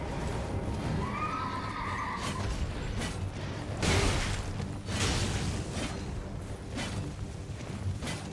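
A horse whinnies early on in the video game Elden Ring, followed by hoof clops, creaking mechanisms and heavy thuds at moderate loudness.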